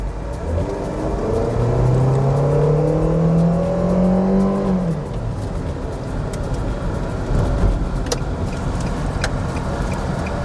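Family car with a 128-horsepower engine accelerating on a test drive, the close engine note rising steadily through the revs for about five seconds before easing off into road and cabin rumble.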